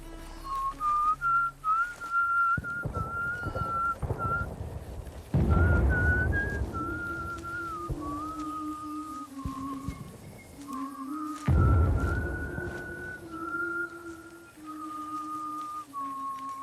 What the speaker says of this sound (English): When they're whistling out in the fields, they're whistling Lift Every Voice, the Black National Anthem.